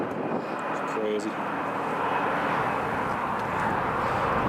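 Emirates airliner engines whine and rumble steadily during pushback at Newcastle International Airport, a continuous loud drone with people talking over it.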